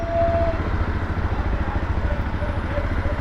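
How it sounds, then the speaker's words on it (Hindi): A motorcycle engine cranking and sputtering as it fails to catch, on a road ride from Udhampur in Kashmir, with a steady low rumbling pulse close by throughout. "बाइक क्यों नहीं स्टार्ट हो रही?"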